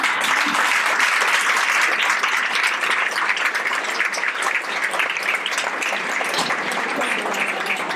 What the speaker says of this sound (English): So she deserves a big round of applause